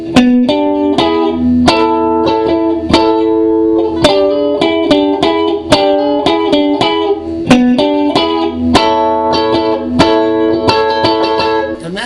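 Electric guitar plays a funky rhythm, with hammer-ons into a note on the third string and quick strummed accents in a steady syncopated pattern, loud, close and unaccompanied.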